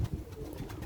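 A Basrawi pigeon coos close by, giving low, soft throaty notes in a brief burst.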